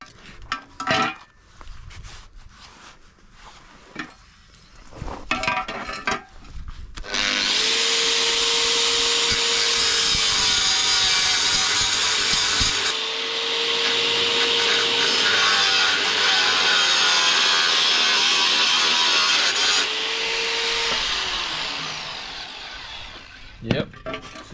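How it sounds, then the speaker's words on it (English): An angle grinder cuts a locator tab off a Greddy Gracer-style fibreglass front bumper for a 1992 Nissan 300ZX Z32. Loud, close whining bursts of cutting run for several seconds each, with brief pauses, after some handling noise. "we're going to get this angle grinder,"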